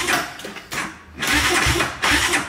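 A motorcycle engine with a faulty starter motor cranks in three rough bursts separated by brief pauses, nearly catching but never firing up, loud and close with no talking.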